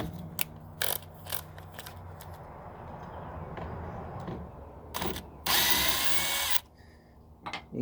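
A power drill backs screws out of a Troy-Bilt TB2MB leaf blower housing in several short bursts of whirring, with one longer run near the end, close up in a quiet room.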